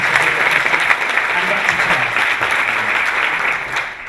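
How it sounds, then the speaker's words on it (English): A round of applause from an audience rises and holds steadily, dense and close, while a voice briefly speaks over the clapping. "A little round of applause."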